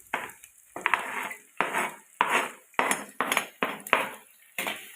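Green chili, finely chopped onion, curry leaves, ginger and garlic sauté in a hot pan, with about ten rhythmic scraping stirs of a spoon over a light sizzle, close and clear with no talking.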